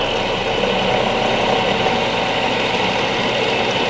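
An electric motor on a speed-up-under-load clutch setup running steadily after its rattle has gone, a continuous mid-pitched hum with a faint mechanical whir, constant and close with no talking.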